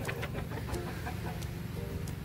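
Chickens clucking softly at a distance in a rural yard, a few short scattered clucks over a low steady background hum.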